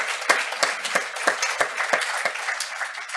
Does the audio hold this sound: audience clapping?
yes